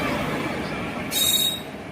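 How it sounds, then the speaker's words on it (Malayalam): A Kanyakumari–Punalur passenger train arrives with a steady, heavy rolling rumble, and a sharp high wheel squeal cuts in partway through. "കന്യാകുമാരി പുനലൂർ പാസഞ്ചറാണ് ഈ വരുന്നത്"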